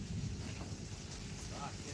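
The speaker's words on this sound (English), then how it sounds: "It's windy up here." Steady wind buffeting a microphone beside polytunnels on a koi farm, a constant low rumble and hiss with no pauses.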